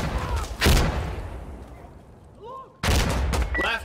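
Frag grenade explosions and gunfire in the video game Insurgency Sandstorm: a loud blast near the start, a quieter stretch of shorter shots, then another heavy burst with rapid follow-up fire near the end.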